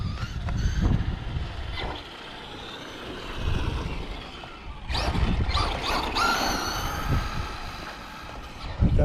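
A Slash 2WD RC car fitted with a 3300kv brushless motor spins its tires in short bursts, with a whirring, scrabbling rush that rises and falls over a steady background.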